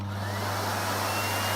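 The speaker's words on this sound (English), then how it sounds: "turn this vacuum on, and I will just go up through the settings so that you can see what I mean by how loud it is" A Miele Compact C2 PowerLine vacuum cleaner runs with a steady motor drone and airy whoosh, close and continuous, with no talking.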